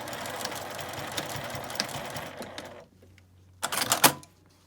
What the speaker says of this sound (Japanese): 紐の終わりのあたりを返し縫いをします